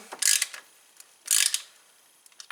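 Bolts on a 2012 Tao Tao scooter variator being tightened with a ratchet, two short bursts of rapid clicking close by, then a few light taps.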